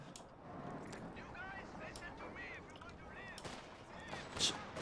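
Mortar and small-arms gunfire in a World War II strategy video game battle, with scattered sharp reports and distant booms layered under a continuous game soundscape, one louder burst near the end.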